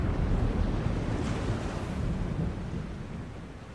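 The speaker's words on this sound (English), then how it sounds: "Is it my imagination, or is the storm getting closer?" Stormy sea ambience from The Longest Journey adventure game: a steady, loud roar of wind, surf and rumbling thunder with rain, continuous throughout and easing slightly toward the end, with no voices.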